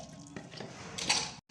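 Water is poured into a pressure cooker holding potatoes and salt: a short, rushing splash that swells near the end and then cuts off abruptly, with no speech.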